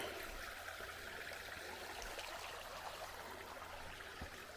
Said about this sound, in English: Well, I finally made it down to Dix Creek.